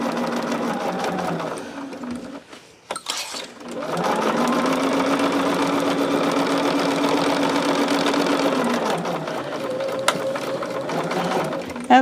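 A sewing machine stitches pouch panels pinned together, running in steady whirring bursts with a short pause near the start and a brief stop toward the end. A voice talks faintly underneath.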